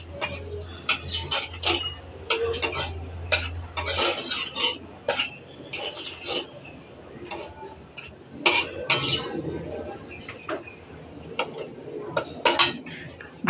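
Black cumin seeds and dried red chillies are stirred in a kadai, giving a run of scattered scraping and clinking spoon-on-metal strokes. A low hum runs under the first few seconds, and no one speaks.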